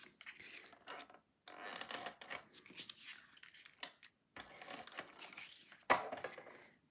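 Tape crinkling and being pressed onto a paper card layer for a Halloween octagon shadowbox 3D card, in short close bursts with brief pauses and a sharper rip near the end.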